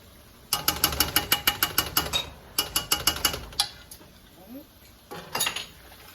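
Spoon stirring mustard into melted butter in a pan for a crab beer butter sauce, a quick run of close clinking scrapes against the pan, a pause, then more clinks and a few softer stirs.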